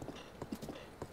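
Horse hooves clip-clopping in The Legend of Zelda: Breath of the Wild, a quick series of close, moderately loud hoof strikes with faint game ambience behind them.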